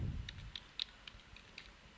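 Soft keystrokes on a computer keyboard, a handful of quick light clicks spaced irregularly, close and quiet with no talk.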